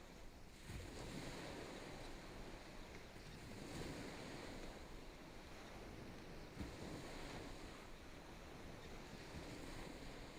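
Ocean surf at dawn in calm, nearly windless weather rolls in as soft, faint washes, with a light breeze brushing the microphone and no talking.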